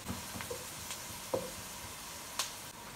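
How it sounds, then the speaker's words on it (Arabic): Onion and minced garlic with salt frying in a pot for biryani give a faint, steady sizzle with a few sparse, sharp pops and no talking. "بس هسه دا اضيف البصل والثوم المطحونة، ملح يذبل البصل اسرع"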